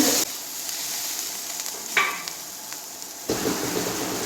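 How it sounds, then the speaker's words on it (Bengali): Chow mein stir-fried in a pan with egg, carrot, potato, capsicum and cabbage gives a steady, close sizzle with a few scraping stirs and light clicks partway through, and no voices. "chowmein chowmein tasty tasty chowmein করা হচ্ছে"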